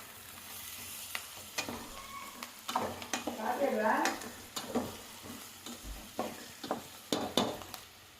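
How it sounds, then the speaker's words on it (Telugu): Green chillies and curry leaves fry with softened onions in a pan for a prawn fry, with a steady sizzle and repeated close scraping stir strokes. "ఇప్పుడు పచ్చిమిర్చి, కరివేపాకు కూడా వేసుకుందాం. ఇవి కూడా ఫ్రై అయ్యేంత వరకు కలుపుకుందాం."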